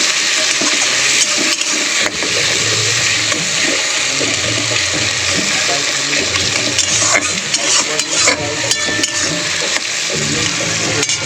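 Chopped tomato hitting a pan of browned onions and frying, a steady broad hiss with stirring clatter and bubbling throughout, fairly loud and close, with no voices.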